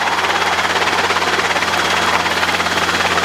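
A Robinson helicopter taxiing during a training flight: a loud, steady rotor and engine drone with rapid rhythmic blade chop, close and continuous throughout.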